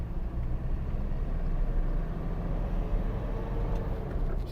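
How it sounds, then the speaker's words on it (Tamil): Ford Endeavour SUV engine accelerating hard in second gear, a steady broad low rumble from the cabin that holds loud and even throughout with no talk. "இப்போ அப்படியே செகண்ட் கியரில் போட்டு புஷ் பண்ணுறேன் பிக்கப் எப்படி இருக்குன்னு பாருங்கள்"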